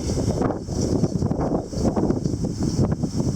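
Strong wind gusts approaching 60 to 70 km/h in a windstorm buffet the microphone in a continuous roar, with rumbling gusts that swell and ease throughout.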